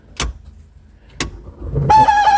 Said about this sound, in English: Oh, we have fans, but I think the motor's a little bit seized.